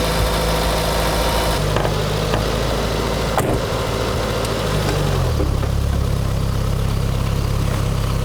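A 1984 Chrysler LeBaron 2.6 engine with a Mikuni carburettor, running steadily after its first start with the choke open. It gives a loud, continuous low rumble and vibration, and the tone drops slightly partway through, with no talk.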